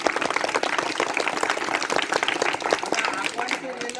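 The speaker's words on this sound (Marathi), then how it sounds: "जोरदार टाळ्या झाल्या पाहिजे." Enthusiastic applause from schoolchildren at a birthday program in a Zilla Parishad school, loud, dense and continuous with crisp clapping, mixed with some voices.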